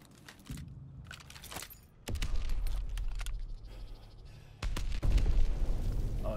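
Grenades explode in an online team shooter, with two sudden heavy booms a few seconds apart, each leaving a loud rumbling blast over quieter game noise and clicks.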